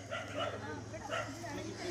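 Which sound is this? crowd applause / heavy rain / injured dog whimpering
injured dog whimpering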